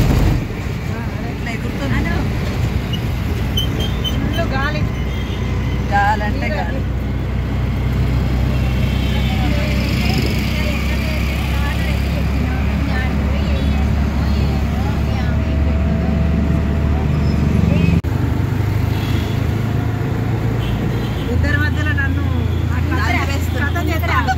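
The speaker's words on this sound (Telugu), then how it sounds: "ఆటోలో ఉన్నాము." An auto rickshaw riding through traffic, with a continuous low engine drone and road rumble beneath people talking.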